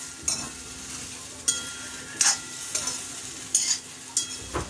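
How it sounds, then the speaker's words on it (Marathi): Okra being lightly roasted in a kadhai and stirred, with a soft steady sizzle broken by regular scraping strokes of a spatula about once a second, close and fairly loud. "आता मी थोडी भेंडी हलकी भाजून घेते, म्हणजे एकदम चिकट होत नाही।"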